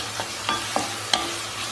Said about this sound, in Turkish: biber, soğan e, bir de domates ilave edeceğim. pembeleşene kadar kavuruyorum.